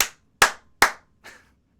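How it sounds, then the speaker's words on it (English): Three sharp, close hand claps spaced evenly apart, followed by a fainter fourth clap, each ringing briefly in an otherwise quiet room. "Let me do 3 claps to see if the audio looks."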